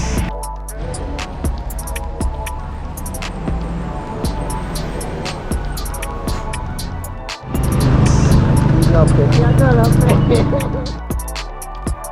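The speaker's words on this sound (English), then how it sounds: "This motorcycle ride has been amazing." A motorcycle rides through the hills of Colombia, its engine a steady throbbing drone mixed with road and wind rush that swells noticeably louder and fuller about two-thirds of the way through.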